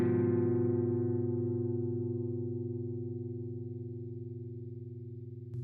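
A single electric guitar note picked on one string through effects rings out and slowly fades, sustaining with a wavering chorus-like shimmer before another faint pluck at the end.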